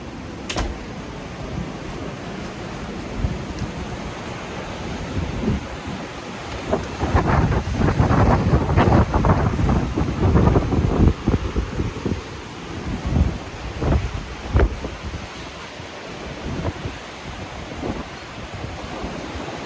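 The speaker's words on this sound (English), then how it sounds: "I like the waves when they're crashing like this" Strong onshore wind and crashing ocean surf at a beach during a bomb cyclone with high tides, a steady roar of wind buffeting the microphone with heavier breaking waves surging in the middle, loud and close.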